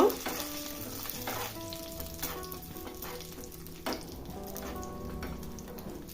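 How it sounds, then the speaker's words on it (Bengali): Cashews and raisins fry in hot ghee with a steady, fairly soft sizzle that runs through the whole stretch, with faint stirring and a few brief clicks. "এবার এই ঘিয়ের মধ্যে দিয়ে দেবো 8-10টা কাজু, আর দিয়ে দেবো 20-25টা কিশমিশ। এবার একটু ভেজে নিব।"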